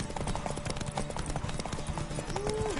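Horse hooves clip-clop at a quick, even gallop in The Witcher 3, loud and close throughout, with faint crowd voices and a brief whinny-like tone near the end.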